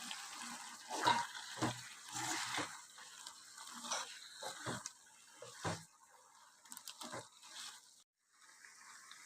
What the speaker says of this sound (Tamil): இப்போ வந்து வந்து சிக்கன் மூழ்கிற அளவுக்கு லைட்டாக தண்ணி சேர்த்திக்கலாம்